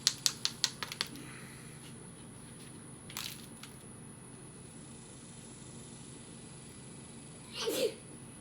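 One short sneeze bursts out near the end, after sharp clicks and scraping from knapping a stone Dalton point, all fairly faint and close.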